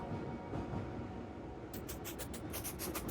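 Continuous low rumble of a train ride in the game A Taste of the Past, joined midway by a rapid series of light rhythmic clicks, with no talk.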